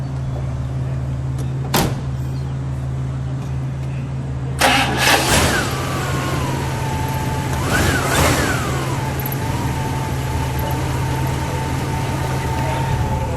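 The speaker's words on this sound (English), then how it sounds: "We'll fire it. We'll listen to it idle. We'll give it a rev" A 1957 Buick Special Riviera Model 46R engine cranks and catches at once, then settles into a steady, quiet idle, with a brief rev that rises and falls midway; a sharp click comes earlier, before the start.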